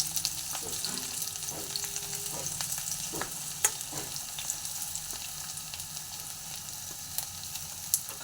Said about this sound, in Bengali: এখানে পেঁয়াজটা ভালো করে লাল করে ভাজা